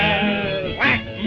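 A voice imitates a duck's quack within a 1935 song about Noah's ark, one nasal, sung-sounding quack rising out of a sustained vocal tone.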